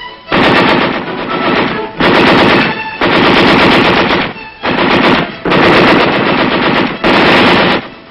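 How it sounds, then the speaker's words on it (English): Long bursts of machine gun fire in Vietnam combat, loud and close, roughly six sustained volleys separated by short pauses, with no speech. "The enemy fire is returned by our forces with devastating effect."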